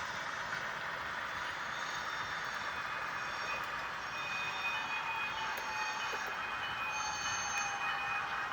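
An HO-scale model railroad freight train led by an ALCO C-425 locomotive runs with a faint, steady mechanical hum and wheel noise, joined by a thin high electronic tone and a brief beep near the end.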